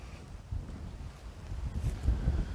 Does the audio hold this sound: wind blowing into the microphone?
yes